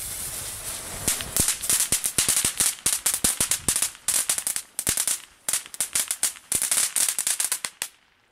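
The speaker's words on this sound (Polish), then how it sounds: "taki fajny efekt jakby wodospadu z cracklingu" Dense bursts of small, cheap low-noise crackling firecrackers crackle and pop in rapid, waterfall-like clusters for several seconds, sharp and bright, ending abruptly in quiet.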